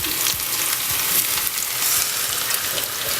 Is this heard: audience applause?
no